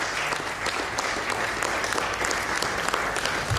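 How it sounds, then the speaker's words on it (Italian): Steady applause from an Italian audience honoring a hospital director general, a nursing graduate, filling the room with continuous dense clapping at a constant moderate level throughout. "Facciamole un applauso."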